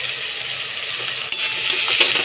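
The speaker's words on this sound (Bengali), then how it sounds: "দিয়ে ভালো করে মশলাটাকে কষিয়ে নেব" Spice masala with turmeric and salt frying in a pan for a Bengali yam and prawn curry: a steady, close sizzling hiss with a brief clatter partway through that grows slightly louder toward the end.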